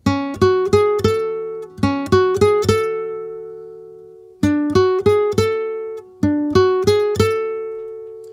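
A picado guitar melody of crisp, separately picked notes in quick rhythmic groups, with pauses between phrases and a sustained ringing note ending each group.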